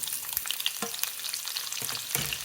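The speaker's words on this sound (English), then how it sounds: "we're just going to let the onion brown up" Chopped medium onion sizzles steadily in hot oil with cumin over a medium flame for chickpea chana masala, a close, continuous crackle broken by a few scraping stirs of a spoon, with no voices.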